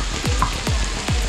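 Garlic frying in a pan while being stirred: a continuous sizzle with three heavy, rhythmic scraping sweeps of a spoon, close and loud, with no talk.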